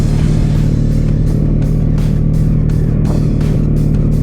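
A 2023 Can-Am Outlander 700 single-cylinder ATV engine drones loud and close on a trail, a steady throbbing motor with slight rises in revs and no talk.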